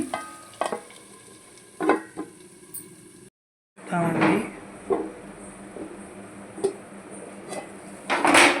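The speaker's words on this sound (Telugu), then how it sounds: "కలపకుండా మూత పెట్టేసుకోండి" Over a steady sizzle, a lid is set on a pan of fish frying with spinach, with a brief gap of silence and several close clatters of metal and stirring.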